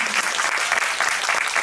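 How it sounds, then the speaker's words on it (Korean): Audience applause at a film screening talk event, steady dense clapping from a crowd filling the room, loud and close, with no talking over it. "박수."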